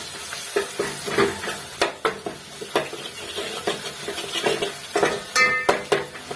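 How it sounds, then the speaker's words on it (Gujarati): A spoon stirs turmeric, cumin, red chili powder and coriander-cumin powder in a pan for panchratna dal. Close, repeated scraping clinks hit the metal over a faint sizzle. "હવે આપણે તેને મિક્સ કરી લઈશું।"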